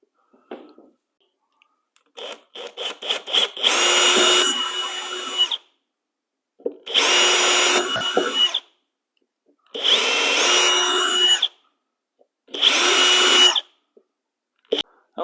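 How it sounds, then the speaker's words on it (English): Power drill boring out a hole in a wooden bandsaw circle-cutting jig: a few short trigger blips, then four loud whirring bursts of about a second each, separated by silent pauses, close and alone. "So we'll go make sure we bore that out just a little so it's not too tight,"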